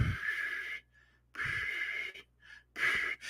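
A person imitates a whistling snore, producing three loud breathy bursts with a high whistling tone, separated by short silent pauses.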